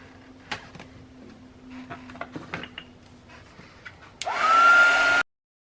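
A hair dryer switches on near the end and blows loudly and steadily for about a second before cutting off sharply, drying paper dipped in coffee, after quieter handling noises.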